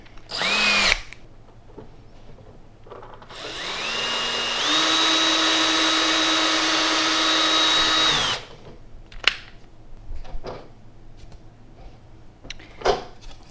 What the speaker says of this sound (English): Need our 1/4 inch drill bit here.